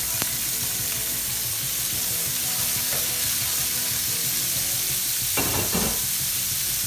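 Washed onion, garlic, celery and leek fry in a pan with a steady, close sizzle throughout, broken by a couple of brief clinks and stirring noises, and no one speaking.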